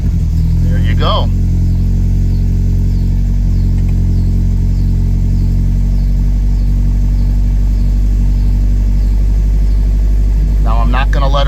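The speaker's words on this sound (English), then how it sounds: "Now I'm not gonna let her sit too low at idle." Engine of a 1971 Alfa Romeo GTV running at a steady, loud idle just after a cold start, a low continuous rumble close by with short bursts of talk at the beginning and end.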